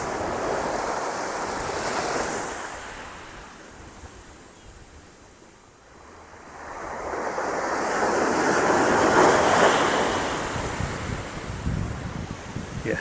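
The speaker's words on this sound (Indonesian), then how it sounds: "Anak-anak di Desa Lede paling hobi mandi di pantai pada saat gelombang laut berkecamuk seperti ini." Rough sea waves surge onto a beach at Lede village, a broad roaring wash that swells, eases to a lull, then builds again loud and near, with wind buffeting the microphone.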